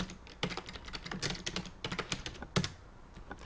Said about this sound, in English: If you go to Google and you type in GoDaddy